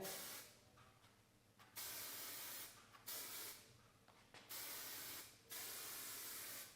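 Bursts of hissing spray from an aerosol can onto hair during a haircut, several long blasts with short pauses between them, close up.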